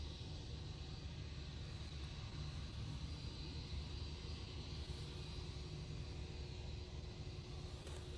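A British Airways airliner approaching Manchester Airport, a faint, distant, steady engine rumble and broadband roar that holds level throughout with no one talking.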